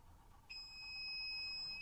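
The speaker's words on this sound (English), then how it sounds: "So that alarm tells us that we are done here." A heat press timer alarm sounds a steady high electronic tone that starts abruptly and holds continuously, fairly faint over quiet room noise.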